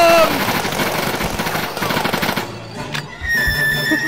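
Rapid automatic gunfire in the Sub Rosa video game, loud and sustained in dense bursts, breaking off briefly near the end before resuming, with faint voices underneath.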